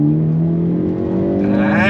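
A 2022 Hyundai Elantra N accelerates in full track mode with a manual gearbox, its engine note rising steadily in pitch and loudness, heard close and continuous throughout.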